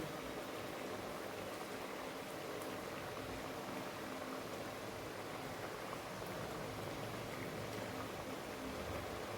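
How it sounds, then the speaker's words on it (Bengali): Paneer korma gravy made with cashew and melon seeds bubbles steadily in a pan, a dense, even simmering hiss with soft popping that stays constant throughout, no voices. "আর একটু ফুটুক"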